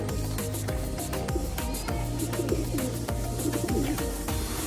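Pigeons coo softly amid flapping and scratching sounds, a busy flock nearby with overlapping low calls.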